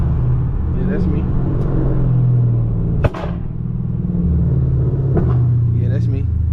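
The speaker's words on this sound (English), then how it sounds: "Every Charger I rode past gonna feel and hear this RT." Loud, deep exhaust rumble from a 5.7 Hemi Dodge Charger R/T running longtube headers, straight pipe and an E85 tune, swelling in revs with a sharp crack partway through.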